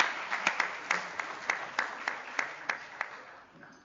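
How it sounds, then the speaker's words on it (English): A small audience claps for university teacher award winners at a ceremony, a thin, slightly distant round of applause with distinct individual claps that tapers off. "May I please have a word of an applause for all of you together collectively."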